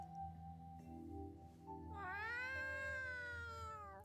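A cat meows in the game Trails to Azure, one drawn-out, rising-then-falling cry over a steady low musical background, with no voices.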